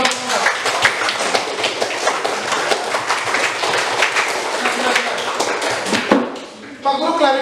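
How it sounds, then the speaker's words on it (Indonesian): A classroom of students claps together at the end of a group presentation, dense continuous applause throughout, then tapering off with a voice speaking at the close. "Oke, tepuk tangan semua berdua."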